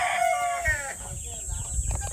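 A rooster crows loudly at the start, followed by clucking hens and low farmyard murmur inside a chicken shed and chick nursery.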